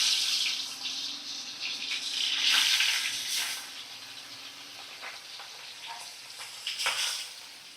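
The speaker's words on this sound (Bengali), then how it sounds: "তো মাছগুলো মাখানো হয়ে গেছে, তো আমি তেলের মধ্যে সব মাছ ছেড়ে দিচ্ছি।" Spice-coated rui and katla fish pieces slide into hot oil over a high gas flame, setting off a loud, broadband sizzle that swells around the middle and then settles into a steady crackling fry with no voices.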